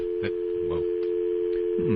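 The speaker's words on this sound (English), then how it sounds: "Dial tone." Steady telephone dial tone, a single continuous hum held for about two seconds with faint background voices and noise underneath.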